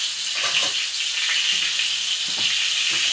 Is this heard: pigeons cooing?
no